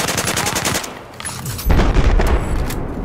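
Rapid automatic fire from an AK-12 rifle with a muzzle brake in Battlefield 4, loud close bursts of shots, a brief lull, then heavier booming fire resuming.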